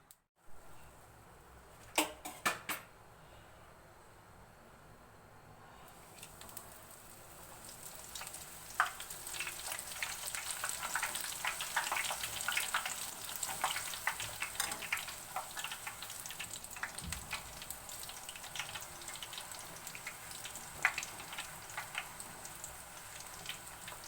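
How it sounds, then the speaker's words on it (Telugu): Pooris deep frying in hot oil, a steady bright sizzle that swells after a few sharp clicks early on and then holds as a dense crackling hiss, with no talk. "ఇప్పుడు మనం పూరీలు డీప్ ఫ్రై చేయడానికి తగినంత ఆయిల్ని తీసుకోండి"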